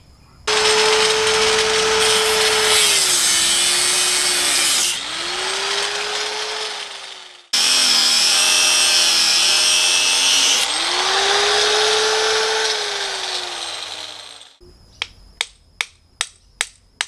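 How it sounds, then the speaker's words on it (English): An angle grinder cuts off a seized, worn Toyota u-joint in two long, loud, close whining passes whose pitch dips under load, followed by a short burst of sharp metallic taps. "So I'm going to use a grinder to cut it off."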